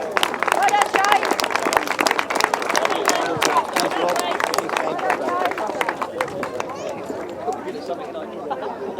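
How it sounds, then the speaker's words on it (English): Applause and scattered clapping from a crowd at a grasstrack motorcycle racing event, mixed with chatter and voices, tapering off toward the end. "Let's give him a round of applause."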